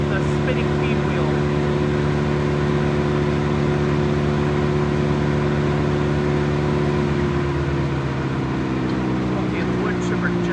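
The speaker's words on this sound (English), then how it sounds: "Okay, the wood chipper just throttled down somehow." A Morbark wood chipper runs with a steady, loud mechanical drone and tonal hum, its pitch shifting and dropping after about seven seconds as the engine throttles down.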